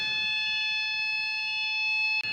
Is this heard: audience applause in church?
no